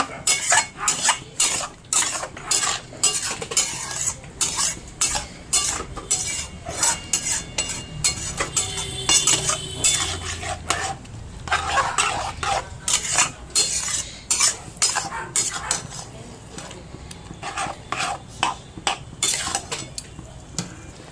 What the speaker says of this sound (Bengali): এবার এটা খানিকক্ষণ কষতে হবে, এরম ভাবেই কষে যাবে।